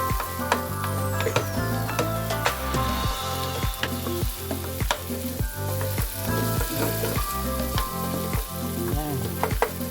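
Chopped tomatoes and onions sizzle loudly in a hot frying pan for a ham and cheese penne sauce, and a utensil crushes and scrapes through them in steady, repeated strokes with no one speaking.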